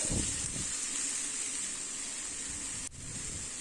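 A steady, soft sizzle and hiss from a pan of gooseberries sautéing, with faint stirring scrapes early on and no talking.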